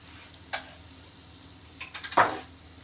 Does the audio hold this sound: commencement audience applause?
no